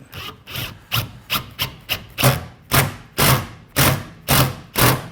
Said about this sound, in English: Now I'm going to use some self-tapping screws, and on this side here and across the top, the screws are actually going to penetrate.